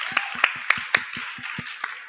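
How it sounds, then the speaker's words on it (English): At an event where three women are being honoured, a small audience claps. The claps are distinct and evenly spaced, and a few hands are heard over roughly two seconds. "I want you to help me give a big round of applause to these incredible 3 women"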